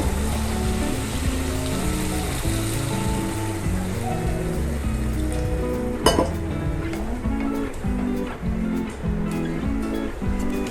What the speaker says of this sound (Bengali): মশলাটাকে কষানো হয়ে গেছে, এবার জল দেব।